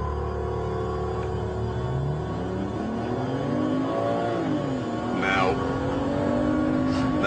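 A race car sets off at race speed: its engine revs climb steadily to about 7,000 RPM, then drop sharply at a gear change and build again. The engine is loud and sustained, with a voice talking over it.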